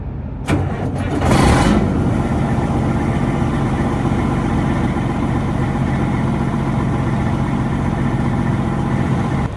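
A port truck's engine catches after a cold start on a cool morning of about 49 degrees, with a brief rough surge, then settles into a steady, loud, close diesel idle rumbling on without a break.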